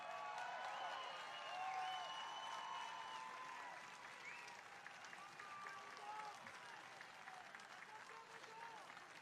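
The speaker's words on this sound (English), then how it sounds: "Give them a big round of applause" Crowd applause and cheering at a Trump campaign rally in Butler, Pennsylvania, a dense, sustained wash of clapping with shouts mixed in, steady and fairly distant throughout.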